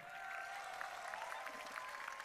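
An audience at a speech by the Governor of Bali claps together in a steady, moderately faint burst of applause that holds evenly throughout with no talking over it.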